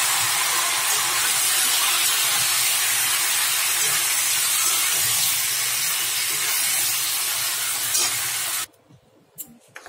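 Marinated chicken with dried chili and bay leaves dropped into hot oil, giving a loud, steady sizzle and hiss that runs for several seconds and then cuts off abruptly to near quiet.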